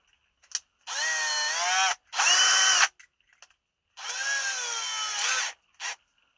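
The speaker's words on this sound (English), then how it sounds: "And then just lightly press the trigger if you're going to use a drill." A power drill on a low speed setting drives screws, running in three steady whirring bursts of about a second each with a rising motor pitch, separated by short pauses and small clicks.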